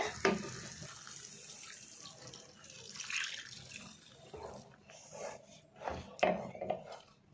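Water poured into a pan of egg green masala gravy, quiet splashing and trickling that comes in short uneven bursts, with a louder spill near the end.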